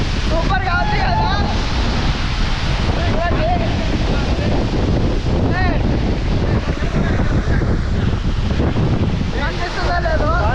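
Water pours forcefully at Penchulakona Waterfalls, a dense, loud, continuous roar heavily buffeted by wind noise across the microphone.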